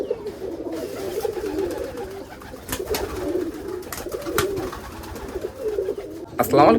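Giribaj pigeons coo steadily in a continuous low, murmuring drone while set out in the sun, with a few sharp knocks and a brief higher flutter near the end.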